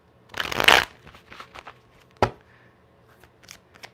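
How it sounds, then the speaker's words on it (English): A deck of playing cards is shuffled, with a loud riffling burst at the start and then a sharp snap, followed by softer scattered card taps and flicks in a quiet room. "That was a terrible shuffle."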